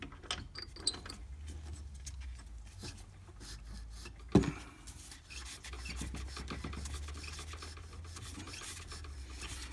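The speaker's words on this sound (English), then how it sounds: "Getting ready to use the die on here with a tap, and I put a little mineral oil in there" Hand threading an ebonite fountain pen cap with a tap and die and a little mineral oil, close rasping and rubbing strokes with one sharp metallic knock midway, no speech.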